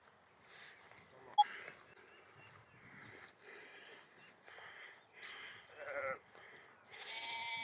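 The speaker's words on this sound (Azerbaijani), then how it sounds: "Keçi gəl. Keçim ha." Goats bleat in a quiet outdoor countryside setting, several wavering calls coming and going at moderate distance, with one sharp click early on.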